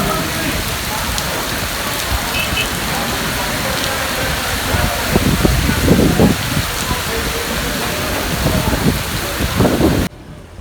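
Heavy rain pours down steadily in Tando Adam, Pakistan, near a railway station with water running through the tracks, a dense continuous hiss with occasional louder bursts, cutting off abruptly at the end.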